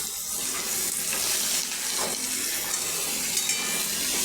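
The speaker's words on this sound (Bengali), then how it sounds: "দিয়ে ভালো করে নাড়াচাড়া করে নেব আমি সবজিটা খুব সুন্দর করে ভেজে নেব" Cut potatoes, flat beans and vegetable stems sizzle loudly in a hot pan, with continuous crackling frying and occasional stirring scrapes up close; no one speaks.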